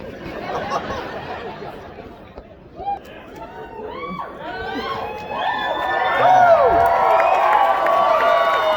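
A comedy show audience breaks into cheering and excited chatter that swells steadily louder, with whoops and laughter from a sizeable crowd after someone speaks briefly at the start.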